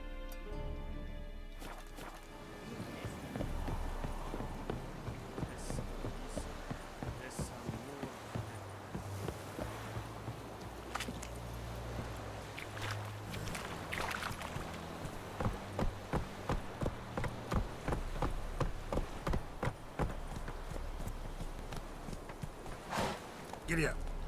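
Horse hooves clip-clop steadily while riding in The Witcher 3, a regular trotting rhythm that is close and clear, with music and someone talking at times underneath.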